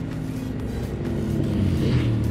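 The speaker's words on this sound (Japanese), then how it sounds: "デュカティのドコドコ音がいいですね。" A Ducati motorcycle passing by on the road with a deep, loping engine rumble, steady and fairly loud, swelling slightly as it nears, with no voices.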